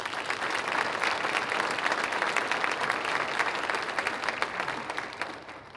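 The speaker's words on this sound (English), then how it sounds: "I'd like to give those gentlemen a round of applause" An audience at a city's State of the City address gives a sustained round of applause, dense clapping throughout that tapers slightly at the end.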